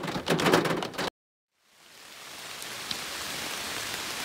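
Rain falls steadily on a backpacking trail on Isle Royale, a soft even hiss that fades in after a brief cut, following a short burst of louder patter.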